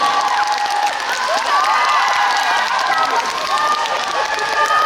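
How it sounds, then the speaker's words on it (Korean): Audience applause and cheering fill a large hall at a Korean entertainment arts awards ceremony for a singer, loud and continuous with crowd noise and voices mixed in throughout. "다시 한번 토도에게 큰 박수 부탁드립니다"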